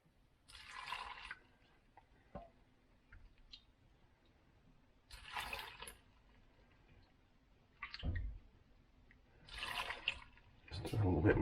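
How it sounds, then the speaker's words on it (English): Salty pickling brine pours in splashy bursts over cucumbers packed for canning pickles, three or four separate liquid gushes with quiet gaps and a few small knocks between. "get it and start pouring it over our cucumbers here"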